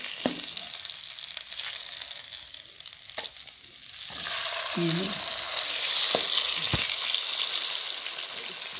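Masala fish frying gently in a pan over a very low flame, a steady soft sizzle with a few sharp clicks and taps as the pieces are carefully turned over partway through.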